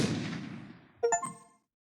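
A gunshot in the video game Anonymous;Code: a sharp, loud crack with short ringing tones that fade out, following a stretch of broad hiss.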